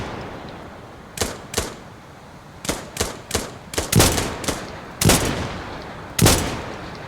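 Gunfire in the retro shooter game Dagger Directive: about a dozen sharp single shots, loud and close, fired at an uneven pace with short pauses between them over faint background noise.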